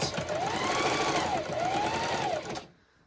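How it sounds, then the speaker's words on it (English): A sewing machine stitching lace runs in one steady close whir for over two seconds, its pitch swelling and dipping slightly, then stops into quiet. "So we're just going to sew the whole length here."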